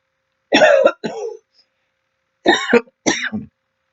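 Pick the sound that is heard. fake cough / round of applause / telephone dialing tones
fake cough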